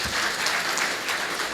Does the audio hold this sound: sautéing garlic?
no